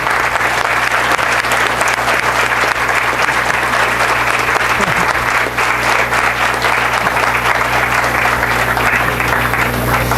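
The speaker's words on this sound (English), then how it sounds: "I'll give one standing ovation for Pradeep." A crowd gives a standing ovation at a technical talk on AI in the semiconductor industry. Loud, dense applause runs continuously at close range with no pause.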